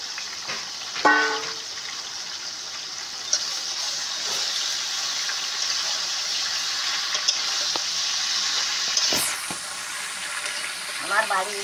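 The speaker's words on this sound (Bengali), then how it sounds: "এবারে আমি আমগুলো ভাজবো এর মধ্যে" Mango pieces from a home-grown tree fry in oil with Bengali five-spice for a sweet-and-sour pickle, giving a steady hiss and crackle that runs throughout, broken by a few brief clinks and stirring knocks.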